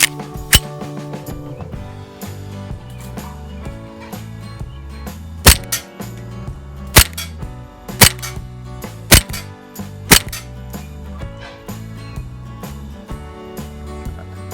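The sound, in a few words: ASG CZ P-09 airsoft pistol shooting .25 Elite Force BBs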